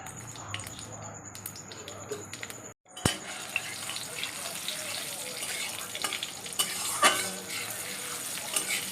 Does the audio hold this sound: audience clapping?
no